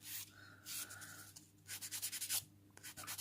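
A soft, well-worn nail file smooths dipping powder nails, giving short, quiet scratchy rubbing strokes in bursts, with a quicker run of rhythmic rasps near the end.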